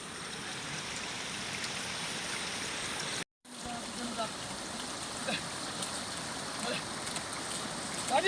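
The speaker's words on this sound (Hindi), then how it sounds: "और इतना पानी ज़बरदस्त यहाँ भी आ गया है।" Heavy water flows through terraced hillside paddy fields in a Himalayan village in Uttarakhand, a continuous rushing wash that cuts out for a moment and then resumes.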